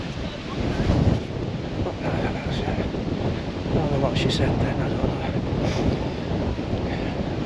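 Strong gusts buffet the microphone in a constant loud roar on an exposed Norfolk Broads walk near Fishley Church by Acle, and people talk faintly underneath.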